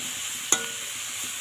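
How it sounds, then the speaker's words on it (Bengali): Chili powder being sautéed in a hot pan gives a steady, loud sizzle, with one sharp spatula scrape near the middle and another at the very end. "তো লঙ্কাটা কষাচ্ছি"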